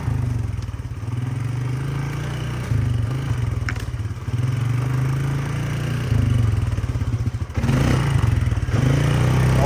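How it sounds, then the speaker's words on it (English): A Polaris Sportsman ATV rides along backyard trails, its engine droning steadily up close with occasional revs, rattles and clatter over rough ground. "You can literally go anywhere. ATV, all-terrain vehicle,"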